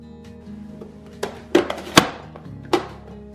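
An onion being chopped on a board for tortilla soup, a few sharp knife thunks spaced irregularly over a low background hum, fairly close.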